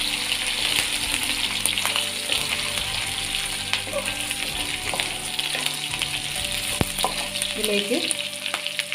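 Crushed garlic, ginger and green chillies frying in hot oil for a Kerala fish head curry, a steady close sizzle and crackle throughout with occasional stirring clinks and a brief spoken word.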